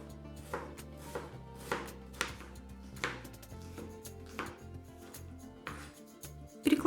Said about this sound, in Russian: Тонко нарезаем лук